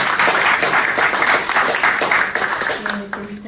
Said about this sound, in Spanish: Bueno, un aplauso para María.